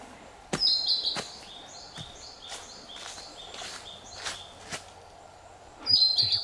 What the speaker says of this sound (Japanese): 鳥のさえずりが非常に